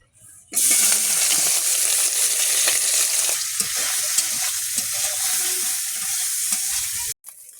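Small mourala fish coated in turmeric and salt sizzle hard in hot oil. The bright frying hiss stays loud and steady for about seven seconds with no voices, then stops abruptly.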